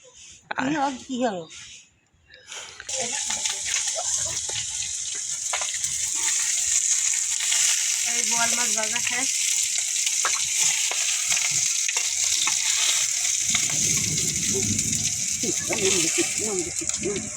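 A spice paste sautés in a pan alongside boal and rupchanda fish, giving a loud, continuous hiss and sizzle after a short opening stretch of talk, with voices occasionally heard beneath the frying.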